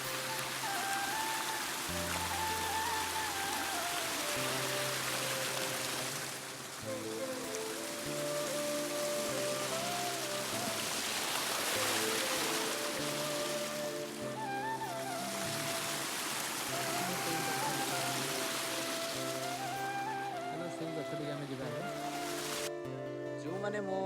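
Water pours in a full, direct stream, a steady broadband rush running the whole time under voices and tonal sound.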